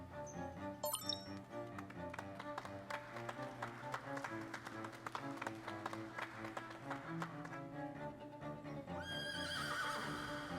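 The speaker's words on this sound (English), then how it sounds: "Oh, there's a horse." A horse neighs near the start over a steady musical score, fairly prominent, followed by rhythmic clip-clop-like tones and a brighter shimmering swell toward the end.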